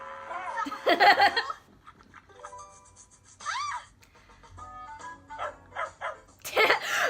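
Yips and barks from a cartoon dog in Angela Anaconda, short sharp bursts scattered between pauses, mixed with voices and a few whimpering cries.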